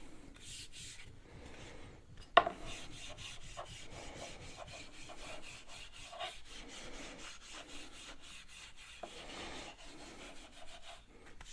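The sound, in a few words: steel wool rubbing a cedar axe handle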